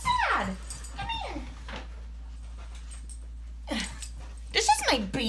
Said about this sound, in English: Does anyone have a dog who cries so much?